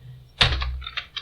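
A computer keyboard clacks in a few quick, close keystrokes: one sharp hit followed by several lighter taps over about a second, with no talking.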